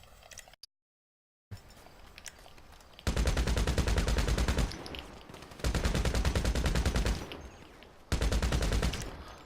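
Gunfire in GTA 5 Online: after a brief silent gap, loud rapid bursts of automatic fire come in three long strings separated by short quieter pauses, close and dominant.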